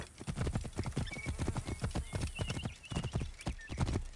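A horse gallops in the video game Assassin's Creed Origins: rapid, close, rhythmic hoofbeats with a brief whinny partway through.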